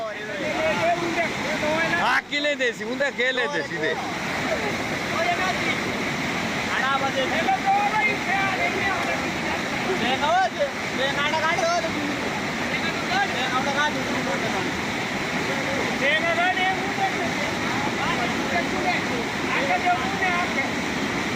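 Fast-flowing water of the swollen Amlawa river rushes in a steady, loud, broadband roar that continues for the whole stretch, with voices over it.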